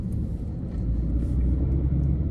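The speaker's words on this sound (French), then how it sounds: "C'est le roulement parce qu'on a fait un peu les cons dans la terre." Citroën car rolling along with a steady low road rumble, heard from inside the cabin after driving on dirt, continuous and fairly loud with no talking.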